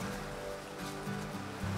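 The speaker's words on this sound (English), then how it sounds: "About to go across this river." A remote Appalachian backcountry trout stream rushes steadily nearby, a soft continuous broadband wash of flowing water with no voices.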